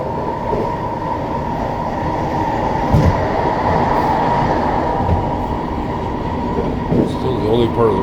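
A train runs on the Southern Railway tracks in Westminster, with a steady, loud rumble and a faint squeal. Occasional clicks come from the switches, and a person talks under the noise.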